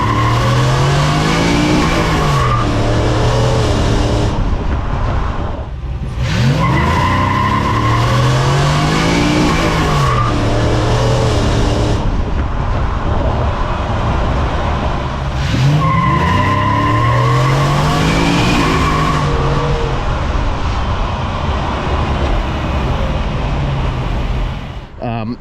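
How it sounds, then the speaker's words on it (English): A Ford F-150 pickup truck launches hard on a street, its engine revving and tires squealing in three long pulses as the wheels hop, loud and close throughout. "Hopefully got some conclusive footage that there is a little bit of wheel hop."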